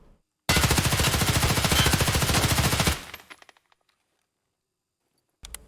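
Rapid automatic gunfire from hip-fired rifle in Escape From Tarkov, a loud unbroken burst of about two and a half seconds that cuts off into ringing decay and brass clinking, followed by silence and a brief new shot.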